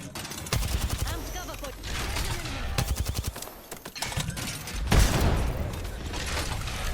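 Rapid gunfire in Apex Legends, dense bursts of automatic shots with booming hits and mechanical clatter, loud and near, with a voice talking over the shooting.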